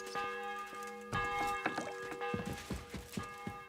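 Church bells ring out in Kingdom Come: Deliverance 2, a sustained metallic peal with strong ringing tones and repeated strikes, joined partway through by clopping steps or hooves and scattered noise.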